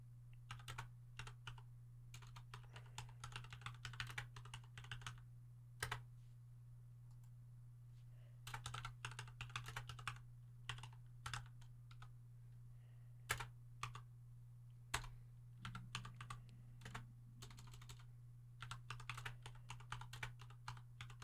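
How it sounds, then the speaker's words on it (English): Bursts of fast typing on a computer keyboard, quiet and close, with pauses between runs of clicking keys over a steady low hum. "I'm typing out the poll so that way I can let you guys know."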